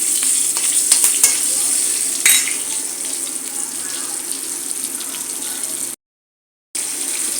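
Four green chillies sautéing in hot oil tempered with mustard seeds, urad dal and cumin: a bright, continuous sizzle with a few crisp stirring clicks near the start and a brief silent gap near the end.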